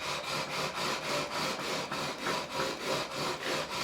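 A fret leveler with 240-grit sandpaper is pushed back and forth across the frets of a Korean-made Squier Stratocaster, giving a steady, close rasping scrape in an even rhythm of about two strokes per second, with no voices.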